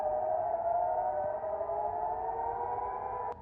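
Air raid siren in Jerusalem during an Iranian missile attack, a steady sustained wail held at one pitch, heard from a distance in open air under low background noise.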